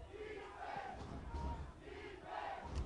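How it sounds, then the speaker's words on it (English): Spectators at an ultimate frisbee game chant a rhythmic defense cheer, a faint, distant crowd of voices rising and falling in repeated phrases. "Crowd's getting into it with the defense chant"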